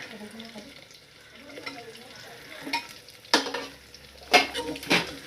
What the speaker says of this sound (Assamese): ইয়াত গাজৰখিনি দি দিছোঁ